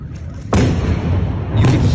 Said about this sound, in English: You can hear the explosions in the background.